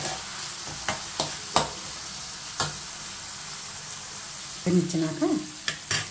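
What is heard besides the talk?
chana dal frying in a pan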